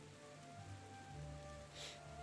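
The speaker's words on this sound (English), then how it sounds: "still hearing the pitter-patter of the rain on the above deck" Steady, soft rain patters across a ship's deck, a dense continuous hiss with a low hum underneath and no voices.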